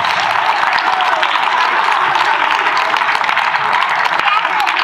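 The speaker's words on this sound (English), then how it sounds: "And so you can give them a round of applause." Students at a Trinity Academy chapel give a loud, continuous round of applause for the runner-up houses of a dodgeball tournament, with crowd noise and scattered voices mixed into the steady clapping.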